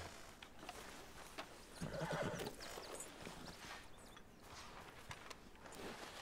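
Horse in the video game Red Dead Redemption 2 gives a whinnying neigh amid clip-clopping hooves and shuffling, all fairly quiet with a soft game ambience behind.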